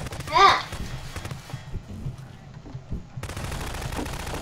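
Rapid video game gunfire rattles out as a bathtub is shot, with a loud burst near the start followed by a steady stream of clattering shots that stays busy throughout.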